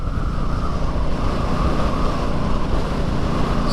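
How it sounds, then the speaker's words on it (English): Gusty northwest wind buffeting a microphone on a motorcycle ride on a warm day, a loud, continuous roaring rush with no talk. "a lot of northwest wind, so it's been a bit gusty so far"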